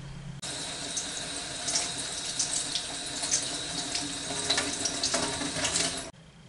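Tap water running into a sink to rinse off a hand mask, a steady close splashing stream that starts abruptly and cuts off near the end.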